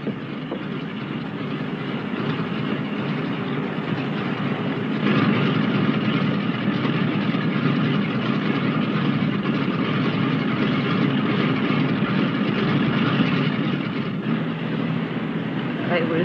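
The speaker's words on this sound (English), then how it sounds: "Oh, there she goes." A departing train rumbles steadily nearby with a low continuous roar, rising slightly as it pulls away, with faint voices in the background.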